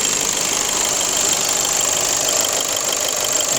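A Volkswagen Passat Alltrack with the 2.0 TDI 190 hp DFH diesel engine ticks over at idle, a steady, even clatter with no talk.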